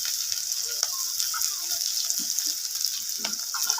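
Onions fry in oil in a pan for a fish curry with tomato and potato, giving a steady, close hiss and sizzle with occasional soft stirring scrapes.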